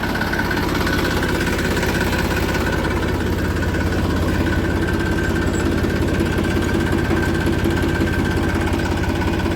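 Homemade tractor built from a motorcycle, its engine running steadily close by with a constant loud throbbing chug and vibration, no voices over it.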